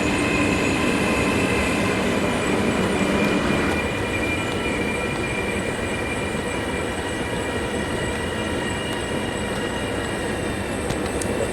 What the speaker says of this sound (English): That's one of the local Veneto trains coming in there.